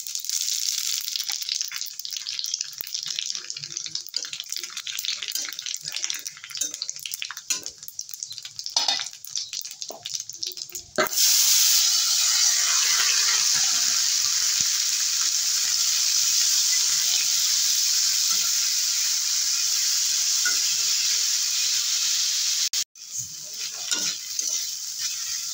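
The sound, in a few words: whole cumin, nigella and radhuni seeds sizzling in hot oil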